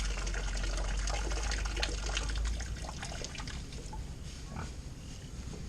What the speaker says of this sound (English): I guess we'll go ahead and drain it.